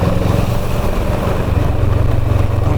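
A motorcycle engine drones steadily and loudly while riding a winding mountain road between Mangan and Kurseong in Sikkim, with slight pulsing in the engine note and no talking.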